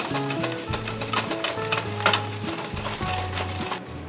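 A rubber-tined whisk works an all-purpose flour roux in a pan, making a continuous close sizzling swish with rhythmic stirring strokes, heard alone without talk.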